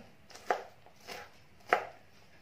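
A knife chops leftover white onion on a board, three distinct, fairly quiet cuts, the first and last sharper, with no voices.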